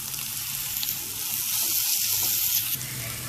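Eggs, turmeric and okra fry in a pan with a continuous loud sizzle, bright and crackling, that swells slightly midway and runs steadily with no talking.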